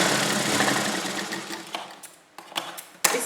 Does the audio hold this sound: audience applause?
no